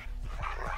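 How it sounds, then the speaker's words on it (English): Multiple dogs barking in the survival video game Next Day: Survival, brief overlapping barks and whimpers set against a continuous low background drone. "Multiple dogs. Oh, dogs everywhere."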